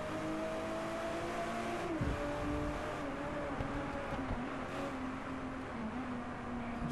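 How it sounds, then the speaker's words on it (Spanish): A car engine revs and shifts in the racing video game Driveclub, rising and dropping in pitch as it accelerates, a continuous, fairly quiet motor whine with no speech. "Agüita el motor como se oye"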